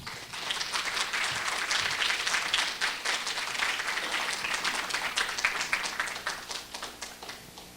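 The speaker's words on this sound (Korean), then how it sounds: "큰 박수로 맞이해 주시기 바랍니다" Sustained audience applause welcoming a professor to give a special lecture at a Korea University graduate school entrance ceremony, a steady dense patter of many hands clapping throughout at moderate volume, with no talking over it.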